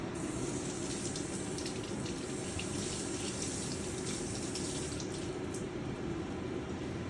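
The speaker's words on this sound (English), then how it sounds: "Give it a quick rinse." Asparagus spears rinsed under a running kitchen tap, a steady, close, even rush of water that holds at full strength for the whole stretch with no talking.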